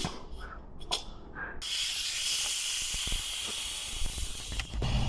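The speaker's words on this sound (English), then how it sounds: "I found this thing doesn't do that, so I kind of have to let the pressure out" Pressure cooker being released by hand after cooking, a short rattle and knocks first, then a loud, steady hiss of escaping steam that goes on to the end.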